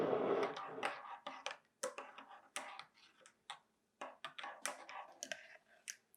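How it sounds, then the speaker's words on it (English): A spoon stirs dairy-free chocolate peppermint creamer into a cup of coffee, making a quick run of close, sharp clinks and taps against the cup in an irregular rhythm, fairly quiet and alone. "Stir it up."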